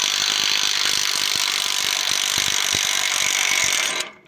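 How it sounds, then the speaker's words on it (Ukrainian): A percussive impact hammer knocks a part free during the unpacking of a BZU-9 Deluxe from Hermes, a loud, dense, steady rattling hammering that runs without pause for about four seconds and then cuts off abruptly. "Отаким образом, ударним молоточком, аж струса летить."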